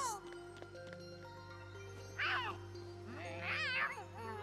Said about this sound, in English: Well, you stole my cat.